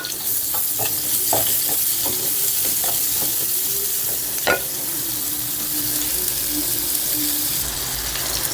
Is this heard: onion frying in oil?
yes